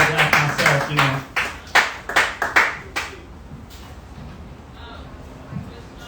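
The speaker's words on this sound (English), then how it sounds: "Clap it up for regular black." A comedy club audience at a late-night variety show claps in several loud bursts near the front, fading after a few seconds into murmurs and a lone voice.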